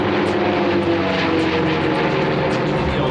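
A twin-tail propeller airplane flies past at an air show, its engine drone loud and steady throughout, a rich broadband roar with no voices over it.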